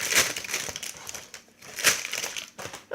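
Baking paper is crumpled by hand for a yogurt cake, giving close crackling, rustling bursts that rise and fall in two main waves, with no talking.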